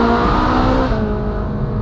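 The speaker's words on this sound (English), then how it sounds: "458, guys, doesn't it sound awesome?" Ferrari 458 engine droning steadily as the car passes under a bridge, a loud close-up tone with sustained harmonics that echo briefly before fading slightly toward the end.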